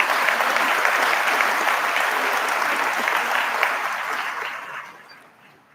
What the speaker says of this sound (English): A round of applause for those folks who make good things happen for our students.